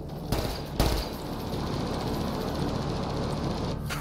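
Mass Effect Andromeda combat with two sharp gunshots near the start, then sustained, dense rapid fire and battle noise rolling on steadily at moderate volume.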